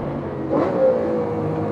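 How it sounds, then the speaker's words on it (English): A Lamborghini Aventador V12 flares its revs briefly on a single-clutch downshift, a short loud engine swell rising and fading within a second over steady road noise. "there's a lovely flare of revs on the downshift"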